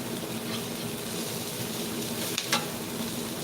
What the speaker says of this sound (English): See how I'm burning the onions?